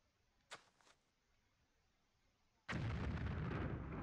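A grenade goes off in the video game Army Men 3D, a sudden loud broadband blast that holds steady as a dense roar, preceded by a faint short pop and quiet background.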